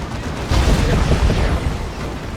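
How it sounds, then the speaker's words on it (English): Heavy cannon blasts and explosions from a Baneblade tank in the Dawn of War 2 strategy game, a loud low rumbling boom swelling mid-clip then fading, with no talk over it. "Baneblade's taking big shots here."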